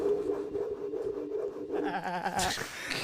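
A voice imitates Velcro ripping off carpet: a steady hummed tone gives way to rough, raspy bursts near the end, close and fairly loud.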